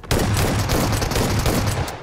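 Rapid automatic gunfire in the video game PUBG Mobile rattles out as a loud, dense burst of closely spaced shots lasting about two seconds, with no talk.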